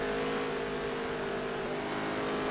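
A steady, loud race car engine drone from the NASCAR Heat 3 video game, holding a constant roar for the whole moment with no talk over it.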